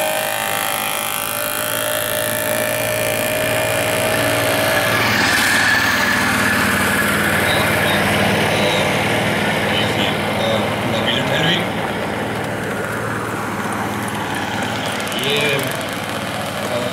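Engine of a race car at an OlaBil (soapbox-style car) race in Lyngås, starting up and running steadily with a loud continuous drone and low rumble, a voice talking over it throughout.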